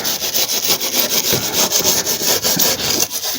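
Old paint being rubbed and scraped off a Ford Escort van panel, a continuous loud, gritty abrasive scrubbing with rhythmic back-and-forth strokes, close up with no talking.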